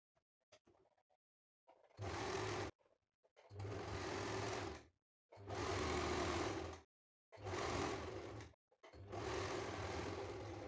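Sewing machine stitching a double-layer umbrella top: five separate bursts of steady, fast mechanical whirring, each lasting about one to one and a half seconds, with short silent gaps between them and no talking.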